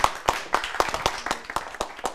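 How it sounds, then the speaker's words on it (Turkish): An audience on a Turkish daytime TV talk show claps in a steady, even rhythm, sharp close hand claps roughly four per second rather than a full applause wash. "Alkışlarınızda sevgili Buket Dereoğlu geliyor"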